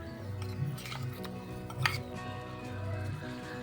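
Freshly ground poppy seed paste stirred into about two cups of water in a pot, with light clinks of a spoon against the metal over a soft background hum.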